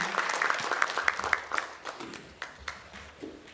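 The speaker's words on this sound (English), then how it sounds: "Can we have biggest round of applause for him?" An audience claps for a presenter at a national security technology conference, scattered individual claps at first that thin out and fade over a few seconds.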